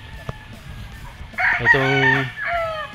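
A White Kelso gamefowl rooster crows once on a gamefowl farm, one close, strong call lasting about a second over a low background hum, with another fowl calling faintly at the end.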